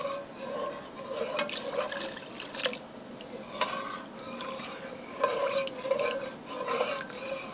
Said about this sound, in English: And I'm gonna finish deglazing the bottom of the pan.